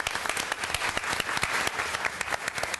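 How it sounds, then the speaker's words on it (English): An audience at a 2015 city council candidate forum applauds the candidates, with dense, steady clapping from many hands that carries through to the end. "Let's applaud all of our candidates for their willingness to stand for office"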